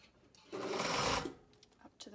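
A sewing machine runs a short burst of stitching through fabric, a close whirring hum lasting under a second before stopping, followed by faint handling sounds.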